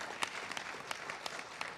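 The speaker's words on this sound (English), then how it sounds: "So let's give him a big round of applause." Audience applause during a religious discourse on the Bhagavad, heard as fairly quiet, scattered clapping with distinct individual claps standing out, brief and without a voice over it.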